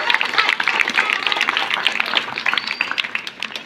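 An audience at a village singing competition in Pimpalgaon breaks into loud, dense applause, a continuous crackling clatter of many hands that lasts the full stretch and tapers slightly at the end.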